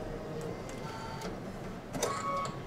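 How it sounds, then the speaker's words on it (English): A multi-needle embroidery machine stitches a placement line for a watermelon block design, a steady mechanical hum with light rapid ticking close by and a brief louder clatter near the end. "Here's the placement stitch for the watermelon."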